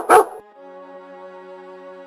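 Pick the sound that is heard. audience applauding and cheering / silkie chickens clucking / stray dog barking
stray dog barking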